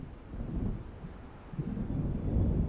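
Low rolling thunder from an approaching storm in Alan Wake Remastered, a deep continuous rumble that swells in waves and grows louder toward the end, with a windy, storm-laden backdrop and no voices.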